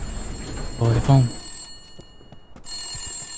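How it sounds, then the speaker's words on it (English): Telephone ringing inside a detective video game, a loud electronic bell in short repeated bursts that sounds alone and close before a lull, with game ambience humming underneath. "Oh, the phone."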